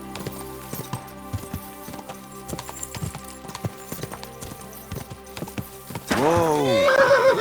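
A horse in Kingdom Come: Deliverance II, its hooves clip-clopping in a steady rhythmic walk, then a loud, close, wavering neigh rising near the end over a soft musical background.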